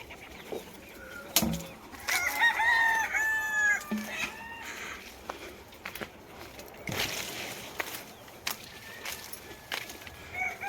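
A rooster crows once at a small farm with a chicken coop, a clear close call followed by scattered clucks and faint bird sounds amid quiet outdoor ambience.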